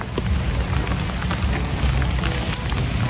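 Steady rain falls outdoors, a dense, even hiss of drops pattering on surfaces throughout, with no voices.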